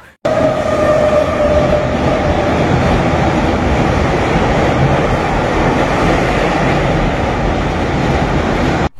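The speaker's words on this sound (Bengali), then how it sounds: "ওখান দিয়ে একটু পরে একটা ট্রেন ক্রস করবে" A train crosses the Khirai bridge, a loud, continuous rumble of wheels and carriages with a steady rattling clatter that fills the whole stretch, no voices.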